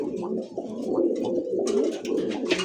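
Danish pigeons coo continuously in a loft, their low, throaty, overlapping calls close and steady, with brief rustling and flutters toward the end.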